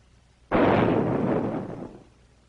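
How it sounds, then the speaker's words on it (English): A 30-gallon copper water tank explodes in a sudden loud blast, holding as a roaring, hissing rush for over a second before fading away. "a 30-gallon copper tank exploded"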